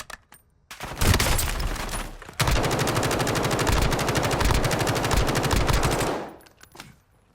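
Rapid automatic gunfire rattles almost continuously in a shooting video game, a short burst first and then a long, loud, evenly paced volley that fades out at the end.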